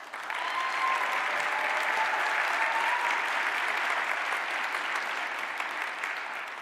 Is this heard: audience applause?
yes